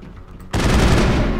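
Gunfire in Mass Effect (2007) bursts in abruptly after a quieter moment, a loud continuous rapid-fire rattle with heavy low thump.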